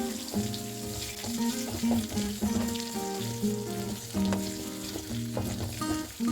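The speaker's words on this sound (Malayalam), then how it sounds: "ഇതിലേക്ക് ഒരു 4 പച്ചമുളക് കീറിയത് ചേർക്കാം. ഇതൊന്ന് വഴന്നു വരുന്ന വരെ നമുക്കൊന്ന് ഇളക്കാം." Four slit green chillies sizzle in a pan and get stirred for a Kerala-style masala dosa filling, a close frying crackle with scraping stirs and watery splashes.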